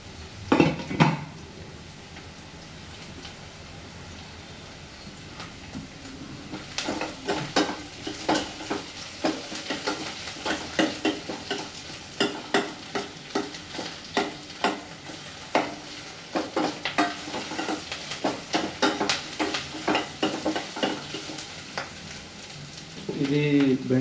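Okra sizzles and fries in a pan, with repeated stirring and utensils scraping against the pan throughout; the frying stays steady at moderate loudness, close by, and no one speaks.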